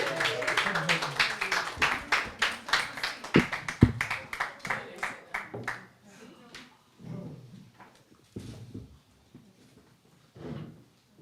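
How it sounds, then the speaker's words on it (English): A pub audience claps for an open-mic singer at a storytelling night, starting as a dense burst of nearby hand claps that thins to scattered claps within a few seconds, with some talk over the tail. "Come on, give Sophie a round of applause."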